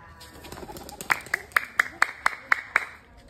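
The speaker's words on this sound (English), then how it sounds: "Oh, you clap hands also" Small child clapping hands, about eight sharp claps in an even rhythm, close and clear over soft background noise.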